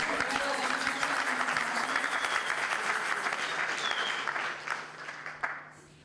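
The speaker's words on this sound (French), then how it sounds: "Est-ce qu'on peut acclamer pour la gloire de Dieu?" A church congregation bursts into loud, sustained applause and cheering at an evangelical gathering, dense clapping that fills the space before tapering off near the end.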